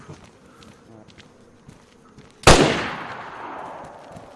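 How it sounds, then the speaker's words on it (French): A single loud gunshot cracks out from behind after a stretch of quiet shuffling and footsteps, and its sharp report is followed by a lingering, echoing tail. "Bah, je sais pas, en tout cas, ça tirait derrière nous."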